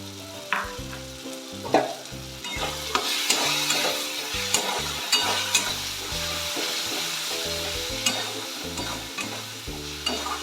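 A paste of ground ginger, cumin and chili powder sizzles in a pan of onion-tomato masala for a cauliflower curry, with steady frying hiss and repeated spatula scrapes and knocks over soft background music.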